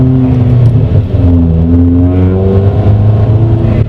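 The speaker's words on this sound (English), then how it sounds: "Here's what it's like to drive with a car that's loud as shit." A loud car engine revs and drones steadily while driving on a 108-degree day, with rising and falling harmonic tones over a constant low rumble, close and continuous with no talk.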